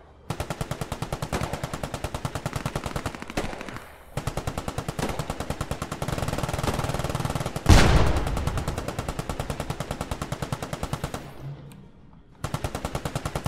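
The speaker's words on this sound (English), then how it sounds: "I don't know what the hell they're shooting at" Rapid automatic gunfire rattles in steady bursts in the World War II video game Post Scriptum, broken by short pauses and one heavier blast midway, loud and without speech.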